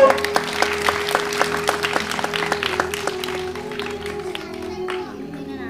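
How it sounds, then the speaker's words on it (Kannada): An audience at a Karthika month evening program in Tarihal, Belagavi, welcomes a revered swami with applause. Clapping from a crowd rises at once, then thins and fades over several seconds, with a held tone and faint voices underneath. "ಜೋರಾದ ಚಪ್ಪಾಳೆಯೊಂದಿಗೆ ಸ್ವಾಗತಿಸಿಕೊಳ್ಳಬೇಕು"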